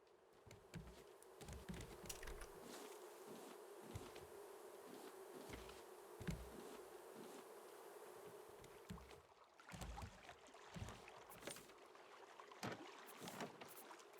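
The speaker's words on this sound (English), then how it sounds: "I hear my bees buzzing alright" Bees buzz steadily in the survival game Raft, a continuous droning hum with ambient wind and water sounds, and occasional clicks and thuds from gameplay over it.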